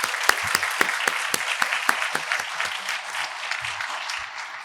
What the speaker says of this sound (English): join me in applauding those individuals who have helped to pull this event together today